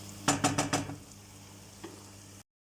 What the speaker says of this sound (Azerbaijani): Ətimiz qovrulur bu qaydada, yağa dönəndə, bax yağı çıxır ətin